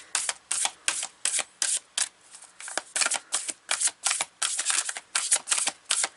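Rapid riffling of playing cards, a steady run of crisp bursts repeating quickly and close up, with no voices.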